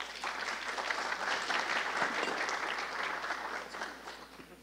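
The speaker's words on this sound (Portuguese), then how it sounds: "Por favor, uma salva de palmas." An audience at a Portuguese-language technology conference talk claps to welcome the presenters, with thick, continuous applause across the whole stretch and a faint murmur of crowd underneath.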